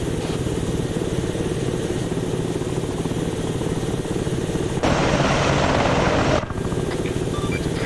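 Aircraft engine in the Arma 3 military video game, a steady loud droning rotor-like roar that runs throughout, swelling briefly in the middle before settling back, with no talk over it.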